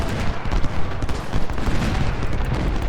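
Dense, continuous rattling musket volley fire rolls on for the whole stretch in Ultimate General: Civil War at Shiloh, loud crackling bursts overlapping with no pauses and no voices.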